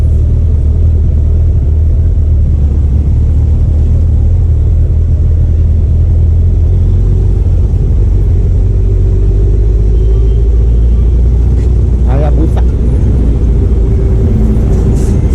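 A Suzuki Hayabusa motorcycle cruises along a road carrying a couple, its engine a loud, steady low rumble mixed with wind noise, with a brief swell of another passing vehicle near the end.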